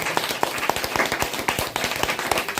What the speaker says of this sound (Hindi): तो महिला शक्ति, नारी शक्ति के लिए एक बार जोरदार ताली।